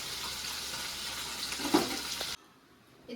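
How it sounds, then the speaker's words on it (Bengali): Ganga mourola fish frying in hot oil, a steady broadband sizzle that runs loud and even for about two seconds, then cuts off abruptly to near quiet before a brief return. "তো মাছগুলো আগে ভেজে নিই"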